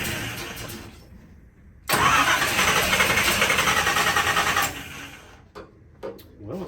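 A Chevy C20 truck cranks over on its starter, then catches into a loud, steady engine roar for several seconds before dropping back to a quieter idle with a few uneven bursts.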